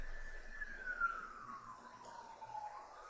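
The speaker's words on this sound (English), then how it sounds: "you can still hear the sirens in the street down below" Police siren wailing in the street far below a rooftop pool cabana, a single falling tone sweeping slowly downward, faint and distant over low city rumble.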